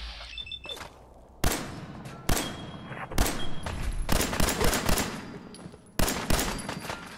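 Gunfire in Fallout 4 aimed at a man, several loud, sharp shots and rapid bursts at irregular intervals with short ringing tails, close and dominant, without speech.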